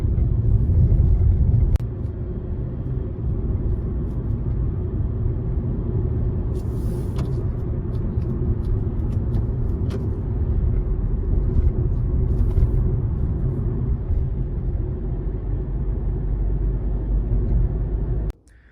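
A used 2013 Hyundai Avante MD sedan with 46,000 km on a test drive, a steady low engine and road rumble heard from inside the cabin, continuous and fairly loud, with a few faint clicks and no talking.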